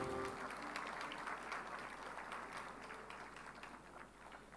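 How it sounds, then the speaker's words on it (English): An audience applauds at an official launch ceremony for an IIT Hyderabad program attended by the Raksha Mantri, a dense, steady wash of many hands clapping that fills the whole stretch and eases slightly toward the end. "Can we have a round of applause, please?"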